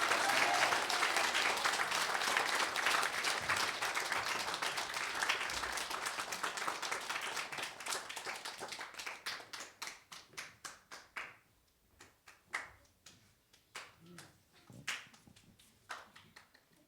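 A church congregation claps loudly as the pastor comes forward, a dense sustained applause that thins after several seconds into scattered, separate claps before fading out.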